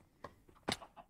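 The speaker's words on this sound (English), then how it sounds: "I have chickens now." Chickens in Minecraft 1.18 give a few short, separate clucks, one louder burst near the middle, over a quiet game background.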